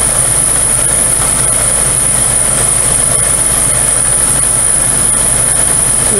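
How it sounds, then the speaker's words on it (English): Lathe turning aluminum at about 1200 RPM with a full-depth cut, a steady loud machining drone with a high sustained whine running unbroken throughout, no voices. "I'm running about 1200 RPMs, full depth of cutting aluminum"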